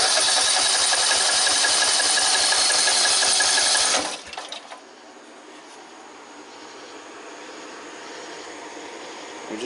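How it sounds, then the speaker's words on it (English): A Briggs & Stratton tractor engine cranks over during a compression test, a rapid, even, rhythmic chugging whir that runs for about four seconds before stopping abruptly. Faint background hiss follows. "So we're going to spin this engine over"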